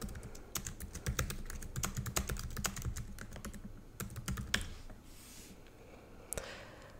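Rapid typing on a computer keyboard, entering a church name into a web search field, with close clicky keystrokes in bursts and short pauses, fading toward the end.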